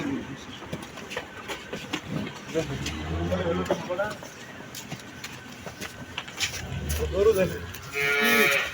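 Two deep, drawn-out cow moos, one early and a louder one near the end, over outdoor chatter and crowd murmur.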